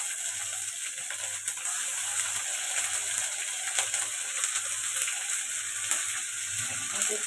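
Onions frying in a pan with dried chillies, bay leaf and ginger paste, a steady broad sizzle with a faint low rhythmic hum pulsing underneath.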